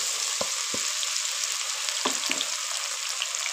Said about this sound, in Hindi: हमने घी रखा हुआ था गरम हो गया डालते हैं प्याज